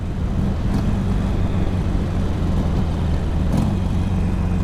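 A Harley Davidson 883 Sportster motorcycle is ridden along a road, its engine a loud, steady low rumble mixed with constant wind buffeting, with no break in the drone.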